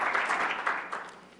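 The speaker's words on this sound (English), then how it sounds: "let's give Commissioner Powell a round of applause" Applause for Commissioner Powell at a business meeting, a burst of many hands clapping that starts full and gradually thins and fades.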